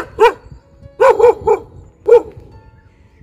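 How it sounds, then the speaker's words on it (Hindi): A dog barks in several sharp bursts outdoors on a village road, one bark, then a quick run of three, then another, loud and close, with no talk over it. "डॉगी ना थोड़ा नाराज़ हो रहा है शायद।"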